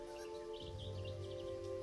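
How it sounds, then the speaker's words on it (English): Faint birdsong in early summer countryside of the Pays de Loire, with hills and woods, a few soft chirps and tweets over a low steady hum. "the landscape is scruffy with hills and woods, which echo with the birdsong of early summer"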